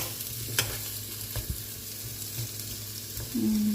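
Squash stir-frying in a pan sizzles steadily at a low level, with soft scraping stirs and an occasional clink of a utensil, close and without talk.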